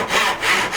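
A thin wooden kayak strip being sawn by hand, two or three quick rasping strokes close up, with no talking.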